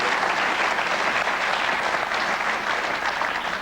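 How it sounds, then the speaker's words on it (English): Steady, dense applause from a studio audience on an Irish quiz show, filling the whole stretch evenly and loudly with no pause. "Give this man a big round of applause."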